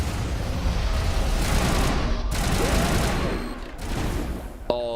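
Rockets fire and burst in Mass Effect combat, giving sustained loud explosive rumbling with rapid blasts and a sharp impact near the end. No talking is heard.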